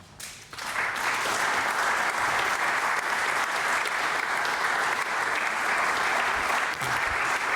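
Sustained applause fills the Swiss Council of States chamber at the close of the 50th legislature, starting after a brief quiet moment and continuing steady and dense throughout, with no voices rising above it.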